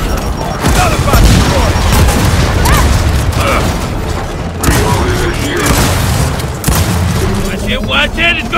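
A frag grenade detonates in the Gears of War 4 campaign amid a loud, dense battle soundscape, with booming blasts and rattling gunfire running continuously throughout, and combat voices calling out over the action.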